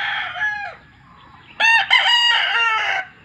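A golden blue sweater gamefowl rooster crows loudly and close, one short call followed by a longer full crow, with nothing else around it.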